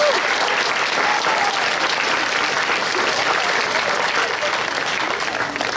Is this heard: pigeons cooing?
no